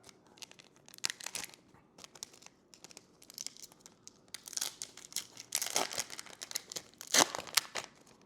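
Crinkly foil wrapper of a CookieRun Braverse volume 5-7 promo card pack being crumpled and torn open, close up in repeated bursts of crackling, growing louder and busier toward the end.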